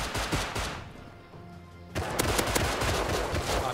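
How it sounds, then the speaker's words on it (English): Rapid bursts of automatic gunfire in the survival game Rust, loud bursts at the start, a brief lull, then sustained shooting resuming close by. "Someone's shooting us."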